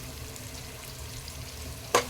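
Onions sauté with salt in a pan for Thalappakatti-style chicken biryani, giving a soft, steady sizzle that ends in a single sharp clatter.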